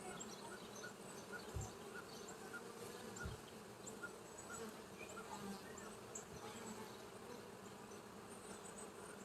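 Honey bees buzz in a steady, low, fairly faint drone during a weekly hive inspection on a farm, with a couple of soft knocks and no talking.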